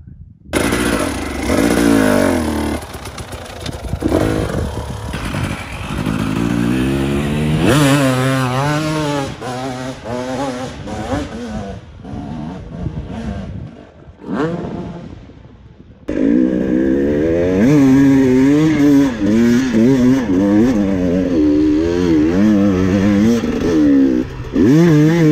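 A KTM EXC 300 TPI two-stroke enduro motorcycle revs hard climbing a steep uphill, its loud engine note rising and falling continuously, briefly dropping off before roaring again up close.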